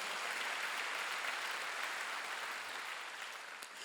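A church congregation applauds during a Wednesday worship service, a steady, dense wash of clapping that fills the room throughout and tapers slightly near the end.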